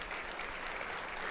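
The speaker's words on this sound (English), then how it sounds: "A nice round of applause for them again." Faint, steady applause at an education convention, honoring a drum line performance, a brief soft wash of clapping from the crowd.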